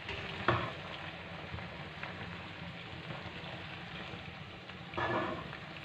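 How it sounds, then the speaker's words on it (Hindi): Macaroni stirred in a frying pan, sizzling steadily close up, with a few louder scrapes as the spoon moves the pasta around. "और इसको इसके अंदर अच्छे से मिक्स कर देते हैं।"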